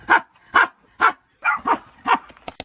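A man imitates a barking dog with a string of about eight short, loud woofs in an uneven rhythm, the last two quicker and sharper.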